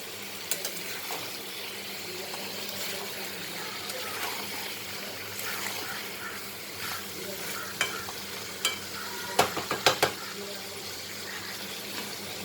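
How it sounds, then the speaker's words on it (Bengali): Elephant foot yam and prawn curry, with hot water just poured in, is stirred in a pan, a steady wet sloshing and sizzling with a few sharper spoon clinks toward the end. "একটু গরম জল দেব দিয়ে ভালো করে এটাকে নাড়াচাড়া করে নেব"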